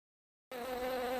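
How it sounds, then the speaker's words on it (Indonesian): A bee buzzing steadily and close, with a sustained harmonic drone that starts abruptly after half a second of silence and holds even to the end. "Teman-teman, ini adalah lebah. Lebah adalah serangga yang dapat menghasilkan madu."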